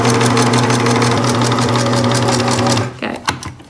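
A sewing machine running steadily while stitching a quilted table runner, a loud even whirring hum with fast rhythmic needle ticks that stops near the end, followed by a few soft handling clicks.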